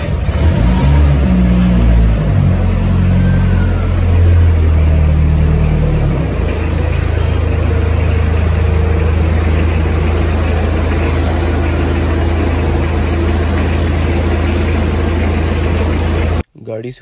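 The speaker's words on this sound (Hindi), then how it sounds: "अब आपको अपनी गाड़ी का स्टार्टअप साउंड सुनाते हैं।" A car engine cranks and catches, briefly revs, then settles into a steady low idle that runs for over ten seconds before cutting off abruptly; some faint voices are heard early on.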